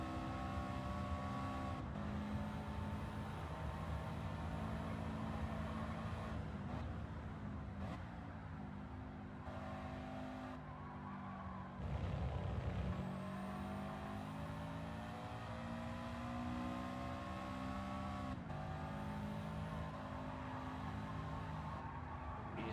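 A Mitsubishi Lancer Evo race car engine in Gran Turismo 7 revs and climbs through repeated rising pitch sweeps between gear shifts, sustained and fairly steady, with a brief drop and surge midway.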